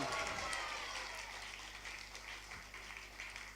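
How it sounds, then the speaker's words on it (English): Audience clapping hands at a devotional morning gathering, a steady wash of applause that is fairly quiet and distant, fading slightly toward the end with faint background murmur. "One more time, clapping hands."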